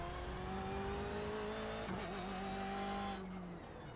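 A race car in a sim racing game brakes hard on cold tyres, engine note dropping as the tyres lock and squeal in a sustained close screech, with no talking.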